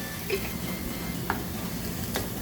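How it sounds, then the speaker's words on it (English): Olives and rice are stirred in a hot pan, a low, even sizzle broken by a few faint ticks from the spoon, quiet and close. "Just keep on stirring."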